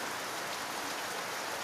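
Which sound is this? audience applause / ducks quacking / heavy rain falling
heavy rain falling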